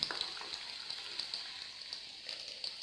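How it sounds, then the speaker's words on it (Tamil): Spicy chicken drumsticks deep fry in hot oil over a medium flame, giving a steady, even bubbling crackle with faint scattered pops, close but fairly soft and continuous, with no talking. "ஸோ டீப் ஃப்ரை பண்ணுறதுனால நம்ம மீடியமில் வச்சுட்டு டீப் ஃப்ரை பண்ணி எடுத்துக்குவோம்."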